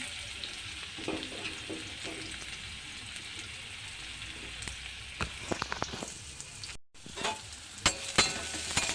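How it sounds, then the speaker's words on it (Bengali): Finely chopped onions fry in oil with a soft, steady sizzle and scattered stirring scrapes and taps, growing busier toward the end after a brief dropout. "অমনি পেঁয়াজ কুচোগুলো দিয়ে দিই। আমি মিহি করে পেঁয়াজ কুচিয়েছি।"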